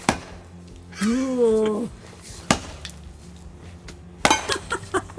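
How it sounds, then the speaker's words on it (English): Chopping and hammering on wood at a remote boat campsite in Fiordland: a sharp knock, then a burst of several rapid impacts, heard close and loud, with a brief spoken exclamation and a high ringing tone near the start. "I'm just hammering it down, you see"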